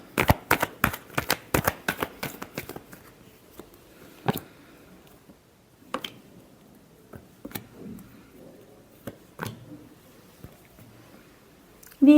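Tarot cards shuffled by hand: a quick run of sharp riffling clicks for the first few seconds, then scattered single taps and soft card slides against a quiet background.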